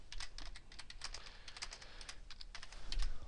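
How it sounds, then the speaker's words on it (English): Rapid, irregular clicking of keys on a computer keyboard while typing text, close and fairly quiet, with uneven bursts of keystrokes and no talking. "and then I start typing."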